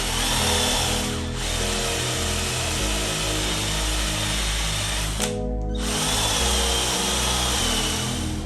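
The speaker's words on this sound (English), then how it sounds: "It's a polishing buffing mop that I've rigged up a bit of stud work to get it into the drill" A power drill spins a rigged polishing buffing mop against the raised letters of a locomotive nameplate, giving a steady, loud whirring drone that dips briefly twice.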